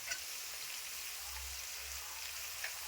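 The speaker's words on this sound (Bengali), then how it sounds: "এখন নেড়ে চেড়ে ভেজে দিচ্ছি।" Vegetables fry in a pan while being stirred, giving a steady, faint sizzling hiss throughout with a soft low rumble and no talk.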